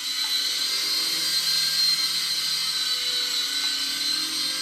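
A Hornet mini radio-controlled helicopter flies nearby with a steady high-pitched motor and rotor whine, constant and fairly loud throughout, with no one talking.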